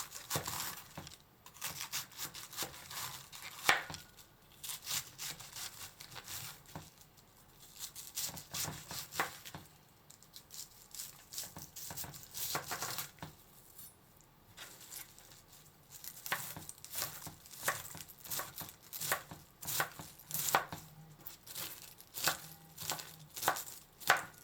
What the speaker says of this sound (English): Chop the cabbage into fine pieces, about 1 cm in size